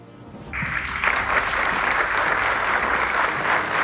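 An audience at an award ceremony for school directors bursts into applause, a quiet start swelling within a second into broad, sustained clapping from a large crowd.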